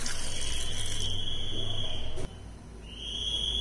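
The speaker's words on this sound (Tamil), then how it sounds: "இப்ப 1/2 கப் அளவு தண்ணி சேர்த்துக்கிறேன்." Half a cup of water pours steadily into a pot of raw jackfruit being cooked, a continuous splashing trickle that briefly cuts off and then resumes more softly.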